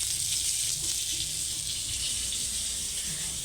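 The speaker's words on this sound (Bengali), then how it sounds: "পটল ভাজা করলা ছিল দু তিনটে তো একবার এখানে দিয়ে দিলাম" Pointed gourd and bitter gourd fry in hot oil, giving a steady, close, hissing sizzle that runs evenly without pause and without talk.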